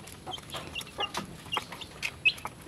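A mother hen with newly hatched chicks, soft clucking mixed with short high chick peeps, close by and steady against a quiet farmyard background, with no voices.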